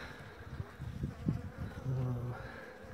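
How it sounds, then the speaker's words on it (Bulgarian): Honeybees buzzing at a hive feeder during a winter hive inspection, close, faint droning hums rising and falling in short passes, with quiet speech around them. "Вижда се, че пчелите отиват,"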